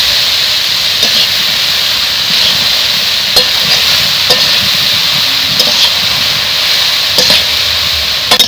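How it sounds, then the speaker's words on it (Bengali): Water spinach, kalmi shak, fries in a pan with dry chilli, sliced onion, turmeric and salt, giving a steady loud sizzle and hiss broken by occasional scraping stirs, close by with no talk. "কলমি শাক ভাজা হতে হতে"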